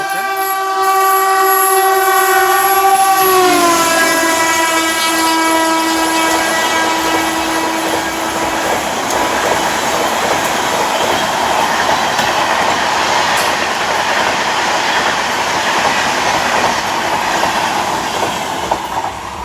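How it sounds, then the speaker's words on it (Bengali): An Azimganj–Katwa passenger train's horn sounds long and loud as it arrives at a station, then the train rumbles and clatters steadily past close by, its noise filling the whole clip. "এই যে আসছে ট্রেন"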